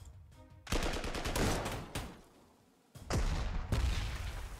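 Artillery in the wartime strategy game Panzer Corps 2 fires in loud, close blasts, each a rapid crackle of explosions, separated by a brief lull, with no talk.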